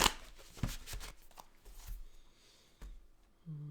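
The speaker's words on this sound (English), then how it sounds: "Give me a couple more shuffles here." A few brisk tarot card shuffles, crisp snaps and riffles clustered early, then quieter handling and a short low hum at the end.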